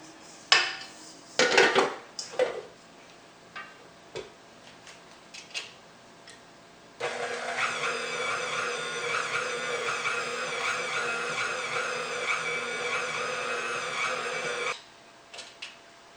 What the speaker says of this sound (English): now we mix in the mixer